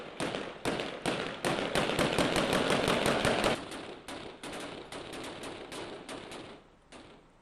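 Settlers' firearms firing during an assault on a Palestinian village, rapid bursts of sharp cracking shots that are dense at first, then thin into scattered reports, loud and without voices.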